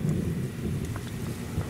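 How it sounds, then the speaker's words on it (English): Distant thunder rumbling low and steady through the full stretch, with faint rain-like patter over it, heard outdoors near a backyard pool as the sky darkens; no voices. "I can hear the thunder"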